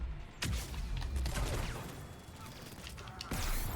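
Shotgun blasts in the video game Mass Effect 3, two loud booming shots a few seconds apart over dense, noisy combat sound.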